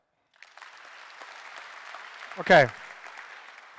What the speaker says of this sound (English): give me a clap if you're a designer